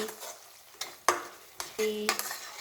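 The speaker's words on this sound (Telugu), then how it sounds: "నీసు కాకుండా మంచి ఇట్లా ఫ్రై అయినాక మంచి ఇట్లా కలపాలి" Fish curry with curry leaves, fenugreek leaves and chili powder frying in a pan is stirred, giving a steady sizzle broken by a few sharp scrapes and knocks of the spoon against the pan, close and fairly quiet.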